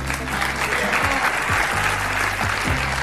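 Dense studio audience applause fills a television talk show set, loud and sustained from start to finish, with faint low thumps underneath.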